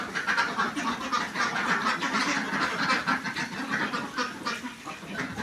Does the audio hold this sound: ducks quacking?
yes